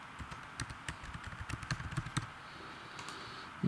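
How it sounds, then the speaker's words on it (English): Rapid typing on a computer keyboard, a close burst of quick light key clicks that speeds up, then trails off into a few scattered taps near the end. "So we can type oscillators."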